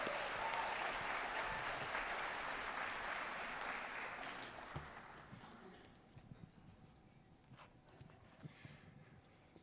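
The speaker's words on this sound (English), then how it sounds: "Let's give them a big round of applause." An audience at an Indigenous education conference claps loudly and steadily, then the applause thins out into scattered claps and fades to near silence.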